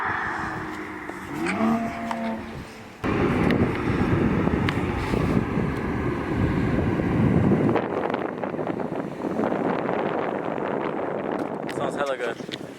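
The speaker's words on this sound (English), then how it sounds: "It's a little windy right now." Strong outdoor wind buffets a broken microphone in heavy, rumbling gusts that grow louder partway through, with voices faintly mixed under the noise.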